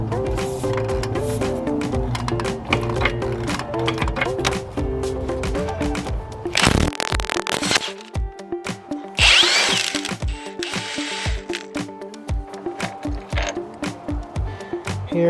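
A power tool spins out a transmission mount bolt on a Mazdaspeed 3. Close, loud whirring and rattling bursts alternate with metallic clicks and clunks, and there is no talking.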